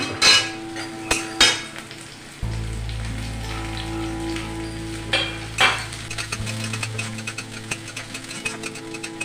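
Ginger, garlic and green chillies fry in a pan for a samosa filling, a soft crackling sizzle with occasional stirring clatter and a low steady hum underneath, fairly quiet throughout.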